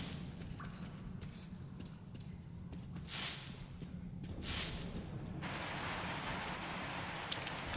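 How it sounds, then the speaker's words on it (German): Steady rain hisses in the first-person shooter Metro Exodus, a constant soft wash with a few brief louder surges, and no voices over it. "Plötzlich regnet es."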